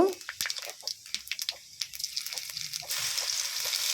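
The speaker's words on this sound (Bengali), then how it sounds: "আমি শুকনো লঙ্কা দিয়েছি দিয়ে নেড়ে চেড়ে নিয়ে লঙ্কাগুলো একটু ভেজে নেব" Dried red chillies fry and get stirred in hot oil, a steady close sizzle with scattered scraping stir clicks and crackles, growing into a denser hiss toward the end.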